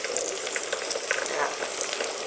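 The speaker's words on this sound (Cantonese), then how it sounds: "佢咪煎緊嘅" Tofu and straw mushrooms fry in a pan with sauce, giving a dense, steady crackling sizzle heard close up without speech.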